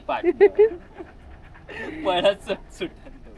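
A dog pants in quick breaths close by, with a few whiny whimpers, while a person talks over it.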